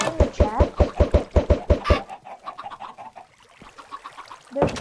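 Cartoonish chickens cluck on a video game farm in a rapid run of loud, rhythmic squawks up front, then scattered softer clucks from several birds, ending with another sharp call.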